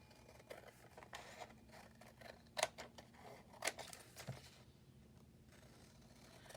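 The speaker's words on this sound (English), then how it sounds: "cut away the excess." Scissors trim excess book-page paper from a layered Christmas journal page, producing faint, close snips and paper rustles, with a few sharper cuts in the middle, and no talking.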